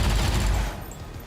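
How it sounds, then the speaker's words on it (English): A coil SMG firing in XCOM 2 during a firefight with a Muton, a loud rapid burst of automatic fire that cuts off after half a second and leaves a fading tail. "Coil SMG right to the face"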